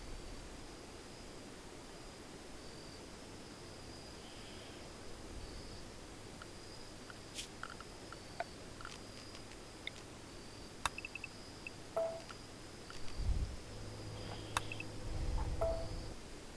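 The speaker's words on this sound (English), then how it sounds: "I'm just enjoying the peaceful cicada noises." Cicada ambience in the game Rimworld forms a faint, continuous high buzz over soft background hiss, with a few scattered ticks and low thumps near the end.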